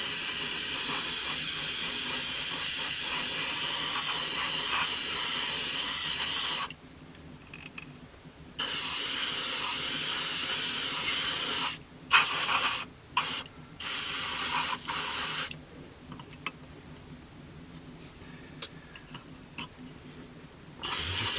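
Varnish coat sprayed onto a 1/72 scale Airfix Jet Provost model kit: loud, steady airbrush hiss in long bursts, broken by several short pauses and quick on-off sprays near the end.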